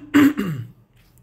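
A single harsh throat clearing and short cough from a man, close and fairly loud, a rough burst followed by a falling growl, then quiet.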